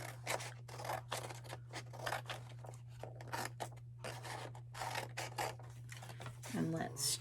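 Scissors trim craft material for a Dollar Tree farmhouse Easter sign, a steady series of close, quiet snipping cuts in quick rhythm over a low constant hum.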